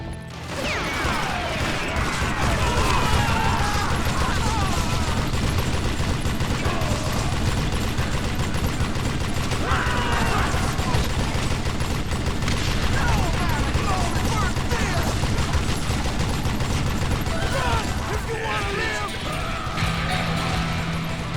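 Gunfire and crashing effects in the western shooter game Call of Juarez Gunslinger, a dense continuous mix of shots and mechanical clatter under game sounds.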